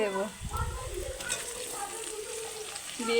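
Chicken pieces tossed into a pan with browned ginger-garlic paste and chopped onion, frying and being stirred for a chicken and potato dish; a steady close sizzle with scraping stirs.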